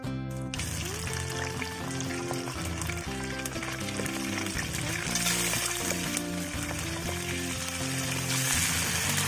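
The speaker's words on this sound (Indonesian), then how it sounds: "kita mulai menggoreng guys. Goreng krep. Kita mulai menggoreng." River crabs frying in a pan of hot oil, a dense steady sizzle heard close up, with music playing loudly alongside throughout.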